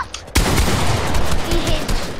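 Fortnite gunfire during a duo boxfight, a sudden loud burst of rapid shots that continues densely for about two seconds.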